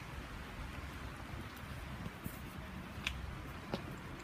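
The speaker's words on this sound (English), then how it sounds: "It's raining pretty crazy now." Rain pours steadily outdoors on a city walk under dark skies, a constant hiss of drops with a few faint sharper taps, no talking.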